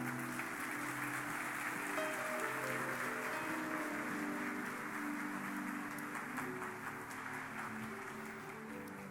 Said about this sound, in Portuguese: Você quer aplaudir o nome de Jesus?